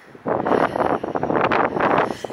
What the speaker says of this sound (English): I've got the wind behind me for a change